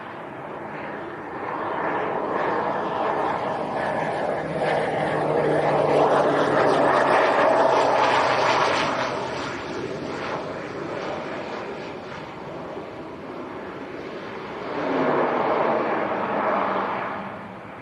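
A Pilatus PC-12 single-engine turboprop on final approach to Leeds Bradford Airport drones steadily at moderate distance, swelling louder through the middle and again near the end, with no talking.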